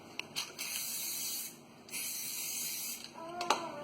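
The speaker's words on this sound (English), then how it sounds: "and then we're going to spray it with oil" Cooking oil sprays from a can onto baking paper in several short hissing bursts, the longest lasting over a second, close and fairly loud, with a brief clink near the end.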